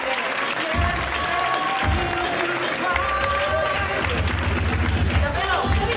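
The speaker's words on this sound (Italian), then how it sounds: "L'applauso qui lo voglio ancora più forte." Loud, dense applause and cheering from a large audience at a dance gala anniversary show, mixed with crowd babble and a low rumble, continuing without pause.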